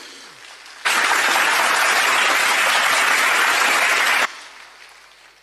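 An audience claps for about three and a half seconds at a New Year plan presentation. The applause is a loud, dense, steady wash that starts abruptly and then cuts off.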